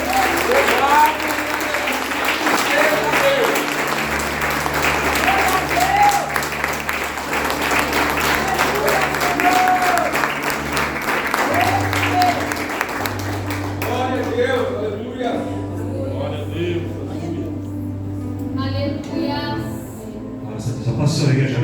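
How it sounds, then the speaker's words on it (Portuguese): Church congregation at a family worship service applauding, a dense sustained wash of clapping from many people under low sustained keyboard tones, thinning toward the end as a voice speaks. "Você pode aplaudir ao Senhor"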